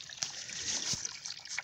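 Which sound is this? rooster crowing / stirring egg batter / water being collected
water being collected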